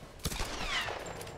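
Gunfire in the Tomb Raider video game: a short burst of quick shots followed by a ringing, whistling tail, loud and close, with no speech over it.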